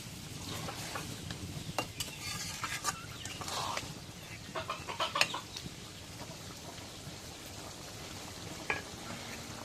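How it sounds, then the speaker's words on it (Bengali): Meat is stirred into cooked spice masala in a pot, giving quiet sizzling with soft scraping and occasional clinks of a spoon, faint and close. "এখন মাংসগুলো দিয়ে দিই আমি নাড়া দিই"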